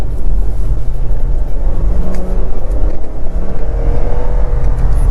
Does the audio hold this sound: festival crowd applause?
no